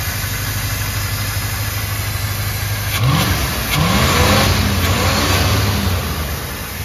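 A 305 Chevy V8 running on a two-stroke dirtbike carburetor, idling roughly and then revving up in loud bursts close by, with a steady high whine throughout.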